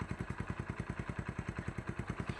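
A motorcycle engine thumps in a fast, even rhythm close by, each firing pulse distinct and regular like a steady idle, with no voices over it.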